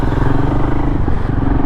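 A Royal Enfield Himalayan 452 motorcycle engine drones steadily while being ridden, a loud, close, continuous rumble with a faint rattle and no talking.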